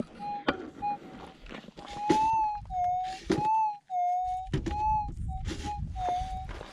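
A metal detector sweeps for gold nuggets along the side of a creek bank, giving repeated warbling electronic tones that rise and dip, with brief quiet gaps and rustling footsteps between them, fairly close.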